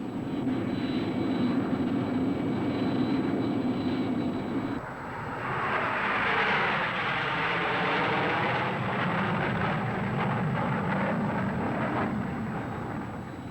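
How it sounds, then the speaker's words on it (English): A QF-86H remote-piloted jet aircraft flares and touches down, its engine a loud, steady roar with a broad whine that shifts and swells midway through, continuous and close throughout with no voices. "The remote pilot flared the aircraft normally just prior to touchdown."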